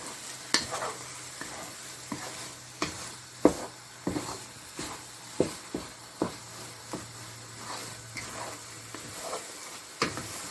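Carrot halwa stirred in a pan with ground cardamom and sugar, a spoon knocking and scraping the pan in sharp, irregular strokes over a low sizzle, close and clear, with no voices.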